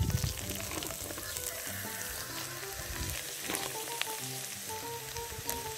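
Purslane sizzling in a pan with lightly fried tomato paste for a Turkish olive-oil purslane dish, a steady, dense crackle running the whole time with some stirring clatter and no talk.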